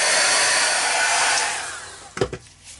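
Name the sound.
heat gun drying ceramic decoration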